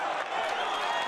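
A boxing crowd cheering for the home fighter, Fabrice Aurieng of France, against Mairis Briedis, as a steady, dense roar of voices that fills the space evenly throughout.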